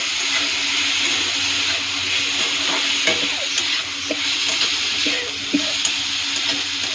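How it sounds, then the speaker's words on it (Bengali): Spinach greens with turmeric frying in a pan, giving a steady loud hiss and sizzle throughout, with scattered scraping and clicking as a utensil mixes the greens. "এখন ভালো করে মিক্স করব।"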